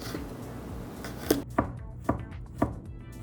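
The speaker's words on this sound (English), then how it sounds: "Mince the garlic." Knife chopping through garlic and vegetables on a board for a peanut gochujang salad, a run of five crisp, evenly spaced strikes up close after a steady kitchen background.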